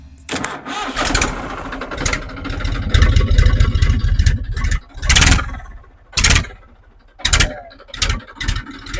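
A tractor engine cranks and sputters to life, revving in loud bursts separated by short pauses, close by.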